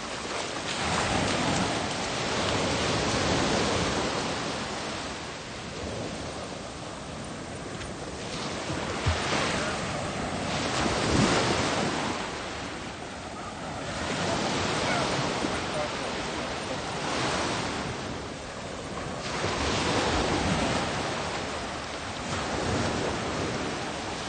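Indian Ocean surf on a beach near Fremantle, Australia: continuous broad wash of breaking waves swelling and receding in slow surges every few seconds, loud and close, with no voices.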